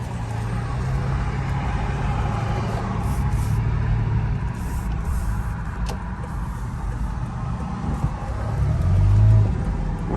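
A 2012 Toyota FJ Cruiser Trails Team Special driving through afternoon traffic gives a steady low engine and road drone that swells briefly near the end, with no talk.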